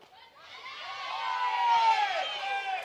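A softball crowd erupts into cheering at an NCAA game between Kentucky and Texas A&M, the roar building from a murmur into loud sustained shouts and whoops with no talk over it.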